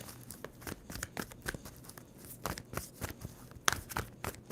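Tarot cards being shuffled by hand for a reading, a close series of quick papery riffles and soft snaps in an irregular rhythm.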